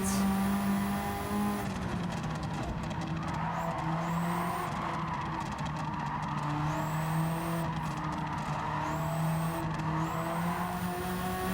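A lightweight Renault Clio V6 race car from Gran Turismo 7 drives hard, its engine tone rising and falling steadily through gear changes, with tire skids and squeals over a continuous close roar.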